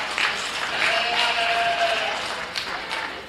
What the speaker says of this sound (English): Let's give Lincoln a nice round of applause